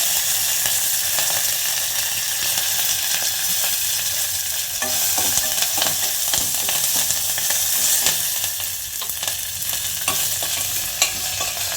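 Curry leaves, dried red chillies and asafoetida temper in hot oil for a groundnut chutney, giving a dense, steady sizzle with crackles and stirring scrapes throughout.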